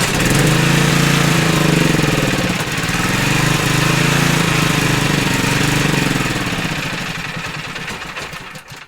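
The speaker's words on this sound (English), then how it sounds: "I'm going to fire it up and I'm going to let it run out of gas." A portable generator engine runs steadily and loudly at close range with a rough mechanical chug, then its level sags and falters over the last few seconds as the fuel runs out.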